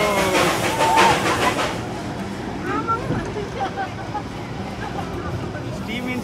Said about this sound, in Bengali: স্টিম ইঞ্জিনে রাইড করছি